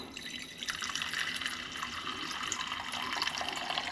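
Tap water running steadily into a saucepan, a soft continuous splashing stream with faint dripping, fairly quiet and alone with no talking.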